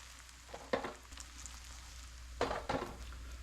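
Cantonese crispy noodles crisp in a pan, a faint steady sizzle broken by a few soft scraping stirs or shifts of the pan.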